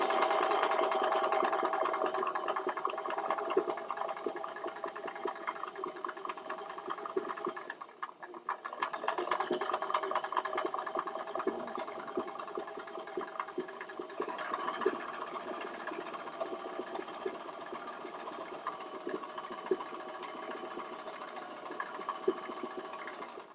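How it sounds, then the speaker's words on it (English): A sewing machine stitches fabric in a fast, even rhythmic whir close by, pausing briefly once before starting up again and running steadily to the end, with no one speaking. "stop the machine with needle in place, flip it, and start sewing down the long end"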